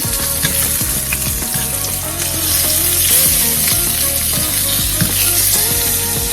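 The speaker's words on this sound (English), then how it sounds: "we're going to go ahead and flip our salmon." Blackened salmon fillets sizzle loudly in a hot pan just after flipping, a dense continuous frying hiss with scraping clatters and knocks of a utensil against the pan.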